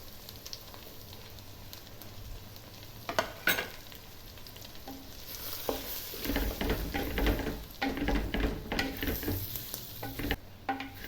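Chili, coriander, pepper and turmeric powders sauté in a pan for a traditional Kerala chicken curry, giving a continuous close sizzle broken by repeated scraping stirs and light clatters of a spoon against the pan.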